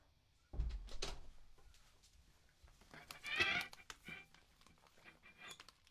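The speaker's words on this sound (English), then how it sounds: "I'll shut my door." A room door is shut during a home songwriting livestream, giving a single close thud followed by brief rattling and shuffling movement, with no talk.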